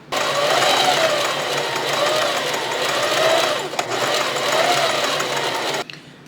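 A sewing machine runs continuously at a steady fast pace, stitching elastic into the seams of a shelf-bra garment, close and even, stopping abruptly at the end.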